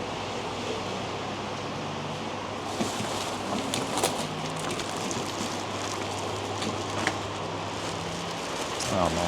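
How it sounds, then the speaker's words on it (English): Steady rain pours down on a city street in Tashkent, Uzbekistan, as a dense, even hiss with occasional louder drips and splashes near the mic, and a low murmur of voices beneath. "Oh man, the rain is still going."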